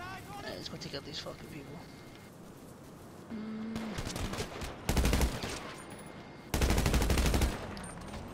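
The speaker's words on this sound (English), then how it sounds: "I even had cops shooting in my back" Police gunfire in a shooter video game comes as rapid bursts of shots, two loud sustained volleys standing out near the end over continuous background game sounds, with a voice talking early on.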